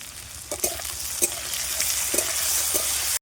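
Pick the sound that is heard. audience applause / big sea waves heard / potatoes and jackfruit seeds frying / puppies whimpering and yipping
potatoes and jackfruit seeds frying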